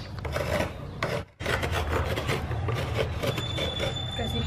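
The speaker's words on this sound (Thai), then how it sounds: "เดี๋ยวสิมาขูดมะพร้าวกันเนาะ" Coconut flesh being scraped with a grater, a close, rhythmic raspy scratching in continuous strokes with one brief pause near the start.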